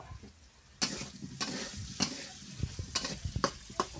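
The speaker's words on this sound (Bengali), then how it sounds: "আলু ভেজে নিচ্ছি" Potatoes frying in a pan give a soft, steady sizzle, broken by several sharp scraping stirs of the spatula spread across the few seconds, with no talking.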